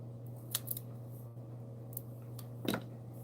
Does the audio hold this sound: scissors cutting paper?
yes